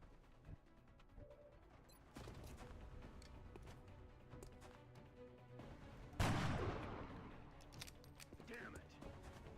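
Gunfire erupts during an XCOM firefight, with a heavy blast and crackling shots over tense game music, along with scattered impacts and mechanical clicks.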